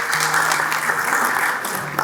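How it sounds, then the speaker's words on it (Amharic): An audience at a book launch claps in a steady, dense burst of applause, close and loud, with a faint tone running underneath. "ለራሳችሁ አጨብጭቡ።"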